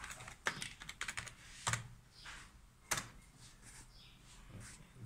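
Keystrokes tap on a computer keyboard in quick uneven bursts while an internet speed test is typed in, with faint background noise and scattered louder clicks between pauses.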